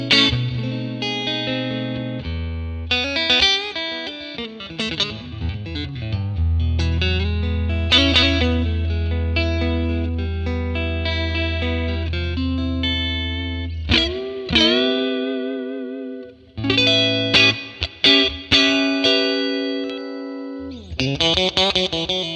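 Clean funk electric guitar on a Strat through a Fender 1957 Tweed Bassman ToneX amp model with reverb, choppy rhythmic chords and short single-note stabs, played alone and upfront.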